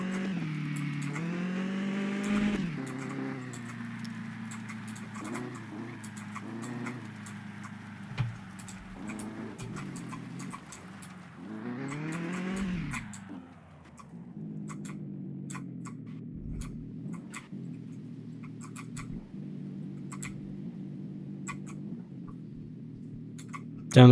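Video-game car in Mon Bazou revving during an attempted burnout: engine tones climb and fall in a couple of rising sweeps, then settle to a steady idle hum, fairly faint, with regular ticking clicks over the top and no voices.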